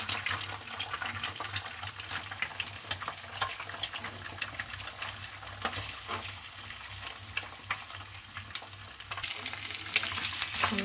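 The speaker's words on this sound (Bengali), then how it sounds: "আমি ডিমটাকে এইভাবে গুঁড়ো করে নিচ্ছি।" Eggs scramble and fry in a pan, giving a steady soft sizzle with scraping stir noises and small clicks throughout, fairly quiet and with no talking.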